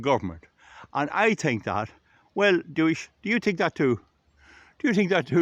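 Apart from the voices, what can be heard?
No everyday noise stands out behind the speech.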